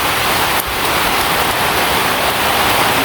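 Heavy rain pours down steadily and loudly, a dense, unbroken hiss of drops on surfaces that continues without pause and with no voices.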